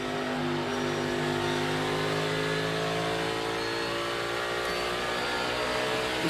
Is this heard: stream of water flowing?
no